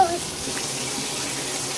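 Bath water runs steadily from a tap into a tub, a loud, close, continuous rushing splash that holds level throughout.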